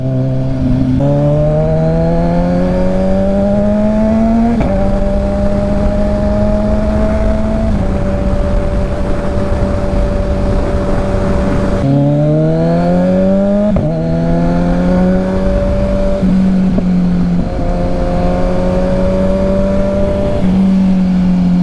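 A car engine revs and shifts gears repeatedly, pitch climbing and dropping, loud and steady wind and road roar as the vehicle speeds along.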